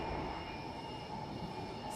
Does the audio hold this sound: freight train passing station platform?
yes